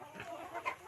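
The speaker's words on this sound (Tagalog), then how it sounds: "Yan ang mga tandang namin." A brief burst of soft clucking from a Kabir rooster, close by and fairly quiet, with nothing else around it.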